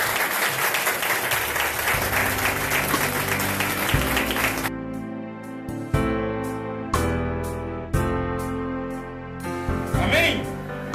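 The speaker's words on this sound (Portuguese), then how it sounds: "Aplauda Jesus bem forte." A church congregation claps loudly and densely for a few seconds, then the applause stops and sustained music tones follow in short separated phrases.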